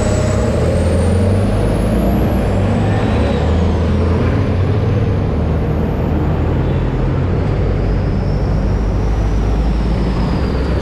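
A large bus rumbles past loudly and close, with a heavy continuous low engine roar and a brief high hiss of air brakes partway through.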